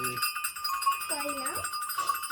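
Bells newly tied on goats and cows ring continuously with a steady metallic shimmer, and an animal bleats briefly midway.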